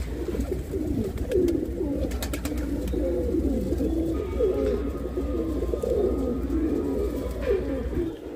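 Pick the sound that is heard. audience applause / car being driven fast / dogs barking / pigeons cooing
pigeons cooing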